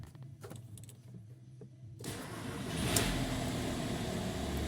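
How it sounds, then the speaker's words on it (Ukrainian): A 2007 Volkswagen T5 2.5 TDI diesel van starts with a sudden broadband burst, then settles into a steady, close idle rumble. "Тож давайте запустимо автомобіль."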